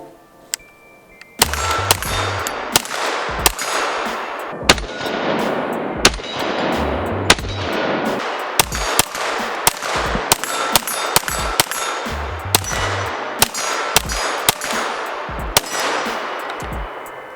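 A Kriss Vector pistol caliber carbine fitted with a new Kriss folding adapter and a new magazine fires a long string of loud, sharp shots outdoors. Each report carries a ringing metallic clang, spaced irregularly at roughly one per second.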